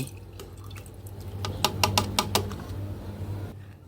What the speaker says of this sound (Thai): ถ้ายีสต์ขึ้นฟองแบบนี้นะถึงจะเทลงถังสำหรับหมักนะคะ เทลงไปได้เลย